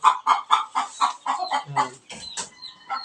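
Chickens raised on top of a house cluck in a quick, steady series of close, clear calls, with a few higher squawks near the end.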